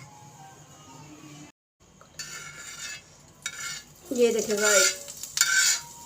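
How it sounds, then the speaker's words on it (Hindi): Hot tadka poured over yogurt eggplant crackles and sizzles loudly, with a spoon scraping and stirring against the pan; someone speaks briefly. "अब ये तड़का डालते हैं अपने दही वाले बैंगनों में,"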